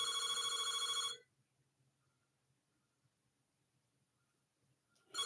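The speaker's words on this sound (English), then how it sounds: "I'm gonna call my house. So yes, the phone is gonna ring." A home telephone rings with a loud electronic trill for about a second, then cuts off into near silence before a second ring starts at the very end.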